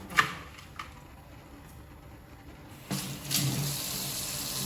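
Ingredients for a coconut-milk bamboo shoot curry washed under running water, a soft steady stream with a sharp splash at the start and a fuller gush later.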